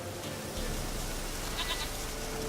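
A brief, thin bleat from a goat in The Witcher 3 rises midway through, set faintly against continuous rustling outdoor game ambience.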